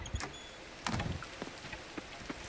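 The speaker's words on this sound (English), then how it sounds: "Oh, it's raining today?" Rain falls in the farming video game Coral Island, a steady soft patter with scattered sharper drops and thuds over a constant wash of noise.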